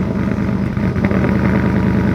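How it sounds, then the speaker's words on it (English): Supercharged 1995 Ford F-150 truck engine, a loud steady low rumble running throughout, heard up close with no talking. "And my dad's about to start his truck."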